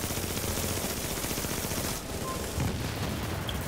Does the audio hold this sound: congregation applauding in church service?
no